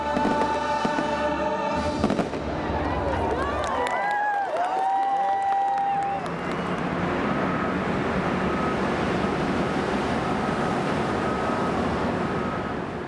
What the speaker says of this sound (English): Ending in a spectacular array of fireworks above Paradise Lagoon.